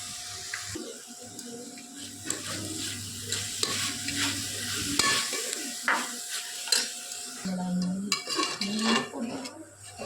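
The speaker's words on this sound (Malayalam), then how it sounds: "ഉപ്പും ഇട്ട് നല്ല രീതിക്ക് മിക്സ് ചെയ്യും." Onion, garlic, salt and turmeric are stirred together in a frying pan, with a close spoon scraping and clinking against the metal over a soft sizzle in repeated strokes, and no talking.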